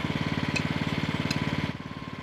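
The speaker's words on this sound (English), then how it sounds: "You turn off that compressor!" A compressor runs with a steady, rapid pulsing chug, loud and continuous, easing slightly toward the end.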